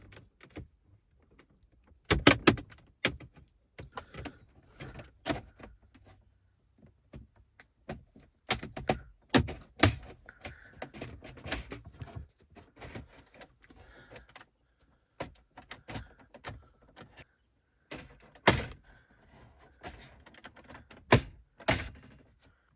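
Plastic dash trim on a Scirocco is pried loose with trim removal tools, giving scattered sharp clicks, snaps and scraping knocks at close range with quiet gaps between them.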